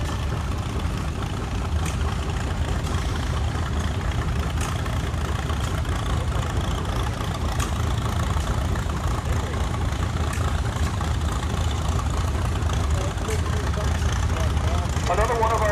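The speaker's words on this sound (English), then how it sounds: "This is a 1912 75 horsepower case engine" A 1912 75-horsepower Case engine runs at the Rock River Thresheree. It is a steady, low, rumbling idle that holds throughout at moderate loudness, with background voices from the show grounds.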